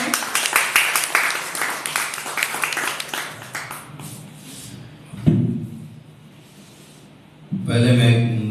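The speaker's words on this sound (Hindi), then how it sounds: "तो नसीम अजीजी जी, तालियों से स्वागत करें।" Audience applause welcomes poet Nasim Azizi at a Hindi kavi sammelan, a burst of clapping that fades within a few seconds, followed by a thump and a louder noise near the end.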